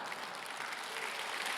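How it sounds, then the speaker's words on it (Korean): A church congregation claps during a Sunday worship service, the applause a dense, even patter of many hands sustained for a brief moment. "교인들이 박수하잖아 봐."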